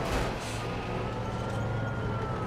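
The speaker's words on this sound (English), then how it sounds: "The ambulance is on its way." Ambulance siren in the Mercenaries 2 video game, a steady wailing tone sounding continuously throughout over a dense rumble of game ambience and engine noise.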